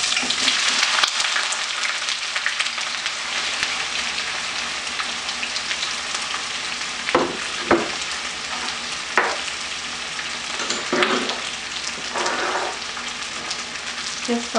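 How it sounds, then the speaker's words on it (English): Onions frying in hot salted oil for a potato lamb korma, a loud, dense, continuous crackling sizzle heard up close, with a few spatula scrapes and stirs partway through and no talking. "I'll fry all these onions"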